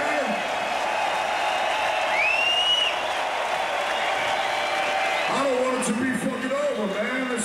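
A rock-concert crowd at a show in the Pacific Coliseum applauds and cheers in a steady, dense roar, with a voice talking over it.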